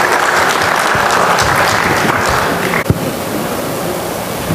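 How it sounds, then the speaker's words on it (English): Large audience round of applause at a cinema industry expo, a loud, continuous roar of clapping that thins out near the end with a brief thump. "let's give them a huge round of applause"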